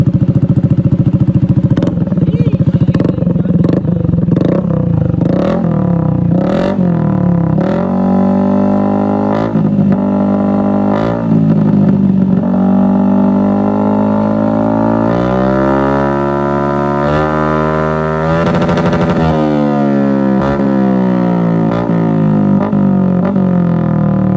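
Yamaha NMAX 155 scooter with an aftermarket Villain muffler and remapped ECU revving loudly, the engine note rising and falling in repeated throttle blips then holding higher revs, close and dominant.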